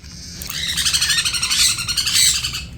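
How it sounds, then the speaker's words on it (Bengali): A hungry lutino cockatiel chick calls close by before hand-feeding, a loud, rapid run of raspy pulsing chirps and begging squawks that continues without a break, no speech. "ককাটেলের বেবি, লুটিনো ককাটেলের বেবি হয়েছে, এটাকে হ্যান্ডফিড করব, খিদে পেয়ে গেছে।"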